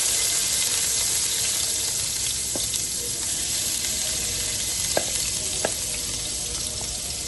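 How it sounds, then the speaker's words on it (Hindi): Finely chopped onion frying in oil for a meat dish, a steady close sizzle with a few light clinks of a utensil against the pan, no voices. "ये हम ऑयल में शामिल कर लेंगे और इसको फ्राई कर"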